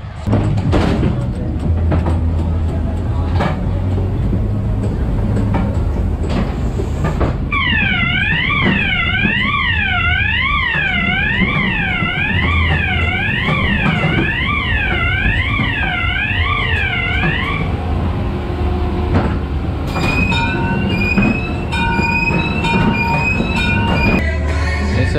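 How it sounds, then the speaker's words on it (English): A funfair ghost train ride rumbles along its rails with a steady low roll, joined midway by a warbling siren-like tone and bright electronic chirps near the end. "keep an eye out for that ghost train"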